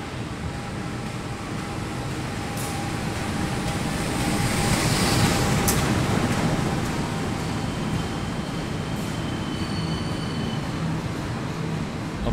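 Inside a passenger train running from Yogyakarta to Semarang in Indonesia, a loud, steady rumble of wheels and motion fills the cabin, swelling slightly midway, with faint high tones and a few clicks over it.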